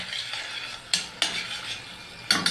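Onion and garlic fry in oil in a pot for Egyptian koshari under a soft sizzle, while a utensil scrapes and clacks against the pan in several sharp strokes, close by and without speech.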